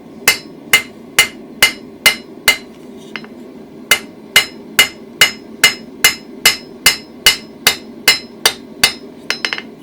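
A blacksmith's hammer forges a barbecue toasting fork on an anvil, ringing out in a steady run of about twenty sharp, loud metallic strikes at an even pace, with a brief pause near the middle and no talking.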